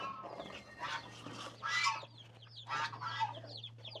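Hens cluck close by in short, uneven bursts, several birds calling over a faint steady hum.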